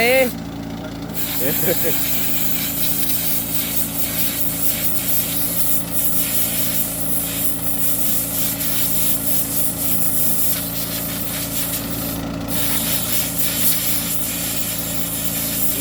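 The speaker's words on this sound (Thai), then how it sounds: "เป่ากรองไปเช้าเลยครับ" Compressed air blasting a tractor's air filter early in the morning: a loud, steady hiss that runs almost unbroken over a low engine-like hum, with a few short changes in the spray.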